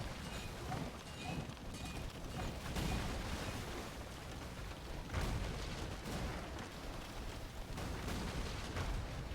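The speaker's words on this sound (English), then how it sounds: "A few Luchans dying though to the cannon galleons from Falafel" Cannon galleons fire during naval combat in Age of Empires II, heavy booms and blasts that land every few seconds over a dense battle rumble, loud and continuous, with no voices.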